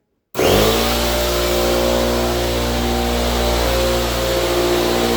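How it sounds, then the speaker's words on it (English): A loud air compressor motor kicks in after a brief silence and runs steadily, a continuous droning hum with a rough mechanical buzz close by. "I need to turn this compressor on, so it might get, yeah, it's going to get loud"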